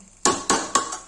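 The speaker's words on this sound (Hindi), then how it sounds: "इसको अब ढक देंगे" Three sharp metallic clanks in quick succession, each ringing briefly, as a lid is set onto a cooking pot of Kashmiri mutton masala with onion, chilli and turmeric; close and clear, with no talking.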